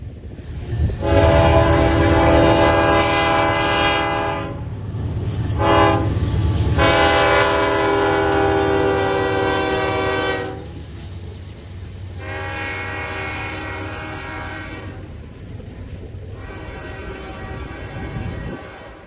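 A locomotive horn blasts several times over the heavy rumble of a passing northbound CPKC grain train led by a single AC4400 locomotive in South Texas, then the rolling rumble continues alone as the horn stops.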